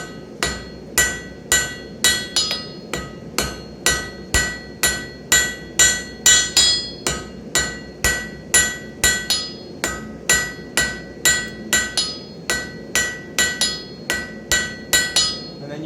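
Hammering a taper on hot metal while forging a metal knot, steady rhythmic blows of a hammer ringing on an anvil, about two per second, loud and close without talk.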